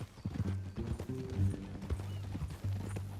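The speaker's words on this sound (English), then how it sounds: "That a new horse?" Horse hooves clop repeatedly in a Western video game, with an uneven walking rhythm of near, moderately loud steps.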